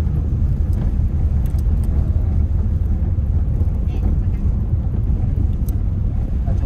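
A steady, loud low rumble of engine and road noise from a 2021 Honda Brio E driving in second gear, heard from inside the cabin without a break.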